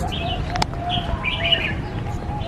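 Songbirds sing at the Kebun Baru Bird Singing Club in Singapore, with scattered high chirps and short warbled phrases over a steady outdoor background hum, and one sharp click near the start.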